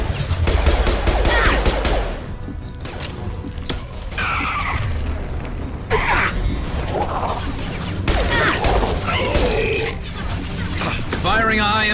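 High-impact gunshots in the video game Mass Effect Legendary crack out in rapid bursts over a dense mix of machine sounds, grunts and roaring effects, loud and close.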